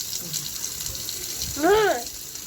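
Running water bathes a pet parrot, a steady, soft splashing flow throughout, with a short, rising-and-falling bird call standing out near the end.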